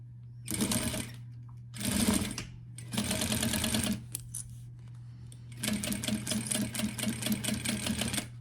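A sewing machine stitches a zipper pouch in several quick, rattling bursts of about a second each, then a longer run, with pauses between, heard close and clear over a low electrical hum.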